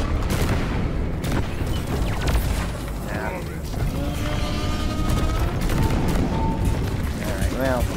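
Sludge Slinger fire against a Dreadnought in the video game Deep Rock Galactic: dense, continuous bursts of gunfire and booming impacts fill a loud combat soundscape, with a voice talking over it.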